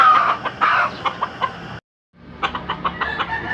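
A farm rooster clucks in a quick run of short, close, loud calls, breaks off into a moment of silence, then carries on clucking in the same choppy rhythm.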